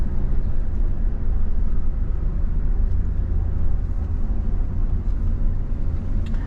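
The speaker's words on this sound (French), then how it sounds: "Ok, on accélère tranquillement." A car pulls away gently during a driving lesson, its low engine hum and road rumble steady and close inside the cabin, with no one speaking.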